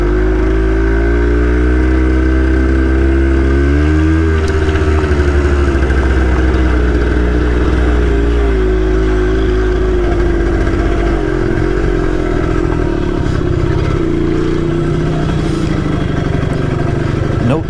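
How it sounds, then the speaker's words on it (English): An X90 motorcycle idles with the choke on, a loud, steady close-up engine drone with slight rise and fall in pitch and some mechanical clatter, no talking. "do not let bike idle too long with the choke on"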